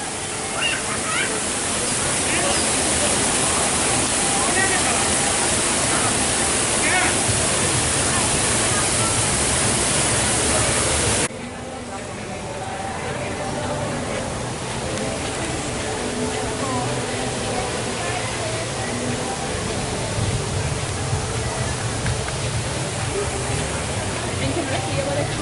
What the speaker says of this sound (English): White water.